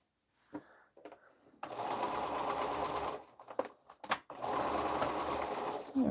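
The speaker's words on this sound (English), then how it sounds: "I'm going to go ahead and sew those together" A sewing machine stitches quilt pieces together in two sustained runs of rapid, close whirring, separated by short stops, soft handling clicks and fabric shuffling.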